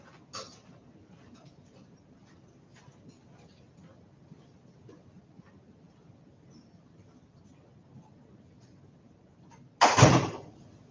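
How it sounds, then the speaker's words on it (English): After a long, quiet stretch in a classroom, a door closes with a single solid thud near the end. A faint tap is heard early on. "I'm going to close this door."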